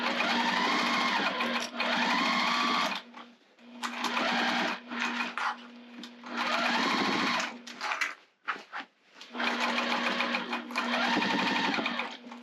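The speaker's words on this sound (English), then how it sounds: "I'm going to sew all the way around the top." A home sewing machine stitching around the top of a fabric basket, running in steady loud whirring bursts of a few seconds each, separated by brief pauses and small clicks.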